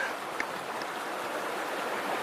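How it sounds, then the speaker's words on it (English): Creek water runs in a steady, soft rush with faint burbles, close by and continuous throughout. "Hanging out with a friend at the creek."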